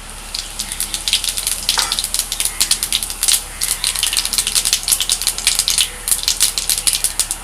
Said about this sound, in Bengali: এবারে এই তেলের মধ্যে দিচ্ছি গোটা জিরে